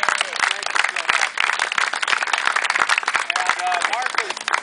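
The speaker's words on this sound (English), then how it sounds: "let's give a round of applause for that" Round of applause and scattered clapping outdoors at a church summer BBQ, individual claps distinct and close amid chatter and voices throughout.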